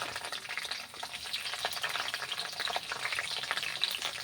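Mustard seeds, cumin and chopped green chilies fry in hot oil with a steady, dense crackling sizzle and small pops, close and continuous throughout.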